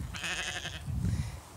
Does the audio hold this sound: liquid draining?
no